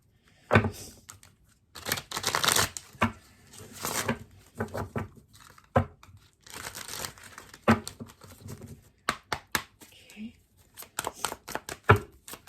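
Tarot cards being shuffled and drawn, irregular close bursts of papery riffling and slapping with short quiet pauses between them.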